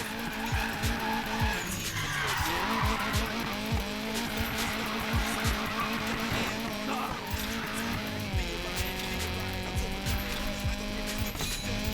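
Tyres screech in a long drift in the Need for Speed Payback racing game, a loud continuous squeal over a revving engine that runs through the whole stretch with shifting pitch.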